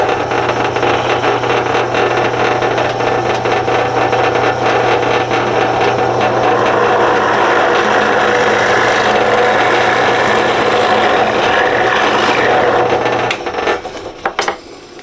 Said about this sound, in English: I'm going to drill one hole